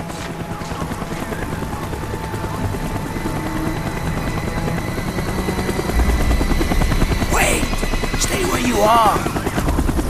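A helicopter from the Black Ops single-player campaign circles overhead with a steady, loud rotor drone that swells after a few seconds, and a voice speaks briefly over it.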